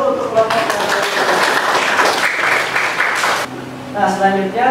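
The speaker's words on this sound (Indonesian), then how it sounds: "kita tepuk tangan dulu untuk kelompok" Classroom students clapping for a group after a presentation, a lively stretch of applause with voices over it that fades into teacher speech near the end.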